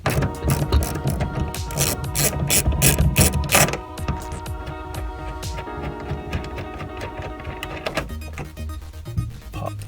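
A ratchet clicks rapidly and loudly while loosening bolts on a 2011 Ford Taurus SEL tail light enclosure, first in quick bursts, then in slower, lighter turns.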